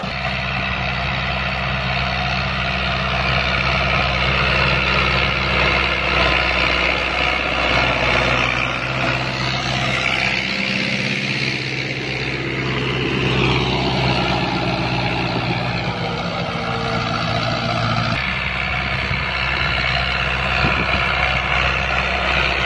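A 2013 New Holland 640 tractor's 75 HP four-cylinder diesel runs steadily for over twenty seconds, a low continuous rumble with slight shifts in load, close and fairly loud, with no one speaking.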